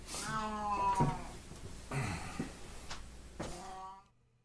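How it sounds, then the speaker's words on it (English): A cat gives several drawn-out, fairly loud meows close by, one after another with short gaps, fading out at the end with no talk over them. "Oh, shut up, you crazy cat."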